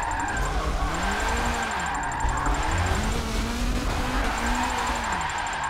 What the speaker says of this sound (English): So this Porsche is definitely a very solid, fun car to drive.